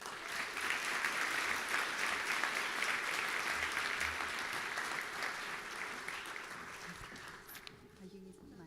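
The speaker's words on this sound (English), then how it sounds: "please help me congratulate with a round of applause to Isabella Flores and Madison Butterfield." An audience at a high school scholarship awards night breaks into sustained, full applause that fills the room, then slowly thins and tapers off near the end.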